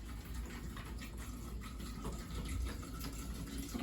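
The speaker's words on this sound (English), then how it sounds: "I'm going to pour the water." Water pours over apples in a jar to make apple cider vinegar, a steady filling gush with a low bubbling rumble that runs continuously for a few seconds.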